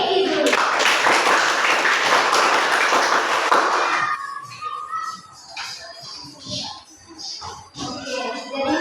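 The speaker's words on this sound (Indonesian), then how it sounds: "Tepuk tangan untuk ini" Classroom pupils clap for a student, a burst of close, bright applause lasting about four seconds before it stops and children's voices and talk take over.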